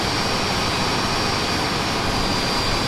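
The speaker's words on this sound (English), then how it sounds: "Once engine 1 is started, it's simply time to do exactly the same for engine 2." Embraer ERJ145 regional jet engine running in the Prepar3D flight simulator, a steady, loud turbine roar with a thin high whine on top, continuous and unchanging, with no voices.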